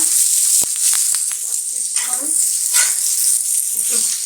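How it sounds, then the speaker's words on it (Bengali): Garlic and bottle gourd leaves sizzle and fry steadily in a pan, a close, continuous hiss with a few sharp taps of a utensil near the start and soft stirring scrapes throughout. "কিছুক্ষণ ভেজে নেব।"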